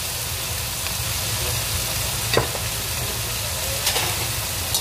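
Spicy bean paste sauce for mapo tofu sizzles steadily in a pan while being stirred, a dense close frying hiss with a few sharp utensil scrapes and taps, no voices.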